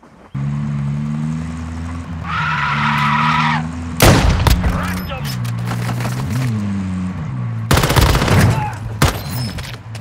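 Bursts of gunfire in the mobile shooter Warzone Mobile. Loud, dense volleys of rapid shots break out twice, between long stretches of droning game sound, and a voice speaks over parts of it.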